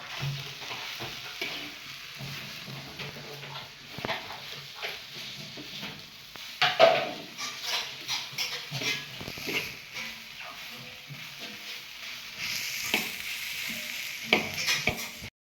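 Onions sizzle and crackle in a pan with a continuous low hiss, while a utensil scrapes and stirs again and again.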